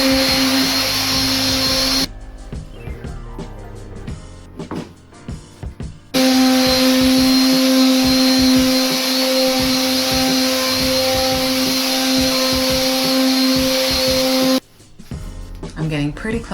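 An electric sander scuffs old gloss paint on an interior hollow-core door in loud, steady whining runs that start and stop, and a person talks during the pause between them.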